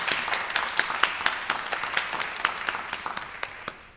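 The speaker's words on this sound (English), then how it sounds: "Let's clap for them." A small audience claps in a continuous patter of individual hand claps, moderately near and fairly quiet, gradually thinning and fading out.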